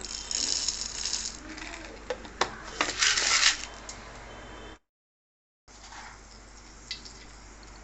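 Peppercorns dropping into a container for Tirupati-style vada batter, a run of small hard ticks and rattling clicks, busiest early on, then a brief silence and a few sparse ticks.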